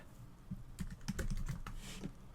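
Typing on a computer keyboard: a quick burst of soft, close key clicks over about two seconds, fairly quiet, no voices.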